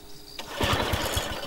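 A lawn mower starts up in the video game Lakeview Cabin, a short rise into a loud, buzzing, rhythmically chugging engine drone close by, no talk.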